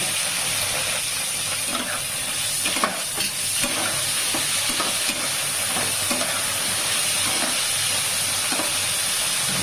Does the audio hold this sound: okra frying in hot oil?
yes